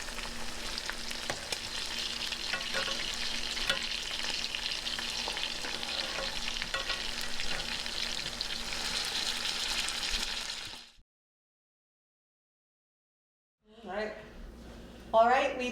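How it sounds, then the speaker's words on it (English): Pierogi frying with onion and butter in a pan: a steady, fairly soft sizzle with occasional stirring scrapes for about eleven seconds, then a brief silence before the crackle returns with a sharp clatter. "the second batch of pierogi we're going to fry with onion and butter, and we're going to let them go until they become crispy"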